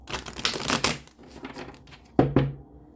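Tarot cards being shuffled, a burst of rapid riffling and flicking followed by quieter handling and two sharp card snaps near the end, close and alone.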